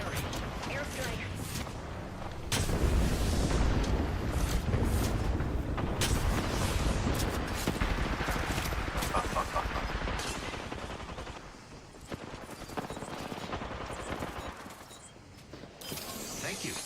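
Gunfire in a battle royale video game, dense and continuous with bursts and mechanical clatter over a busy game mix, with talk running underneath.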